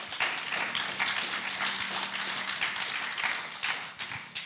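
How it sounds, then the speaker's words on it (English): A crowd at a crypto developer-relations panel discussion applauds steadily, a dense wash of clapping that holds for several seconds without pause. "Let's give them a big round of applause."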